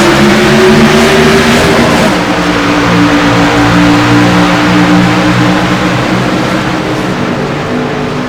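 Race cars of the ICAR Cup Series roar as they accelerate at a green flag restart at Texas Motor Speedway, a loud, sustained, rising engine blare with several cars together and no talk.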